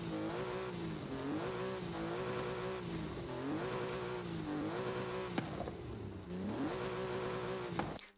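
Porsche 993 engine in the racing game Forza Horizon 5, revving hard through repeated upshifts with rising and falling pitch, loud and continuous, with brief tire squeals.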